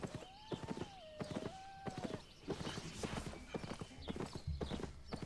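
Rhythmic clip-clop of donkey hooves while riding in the online game Albion Online, steady close hoofbeats with a brief braying or whinny-like tone early on.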